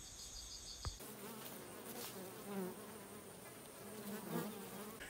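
A steady swarm of honey bees drones in a continuous faint buzz around an apiary hive, with a dense layered hum and no voices.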